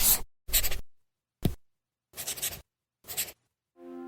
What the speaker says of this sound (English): It's the sound of the new Remarkable Paper Pro